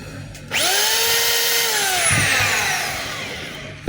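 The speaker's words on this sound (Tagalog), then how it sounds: "Drill." A DeWalt D25033 rotary hammer, freshly repaired with a new field coil, housing, brush holder and spindle, runs up to a loud, steady whine that holds close for several seconds before winding down, with no talk over it.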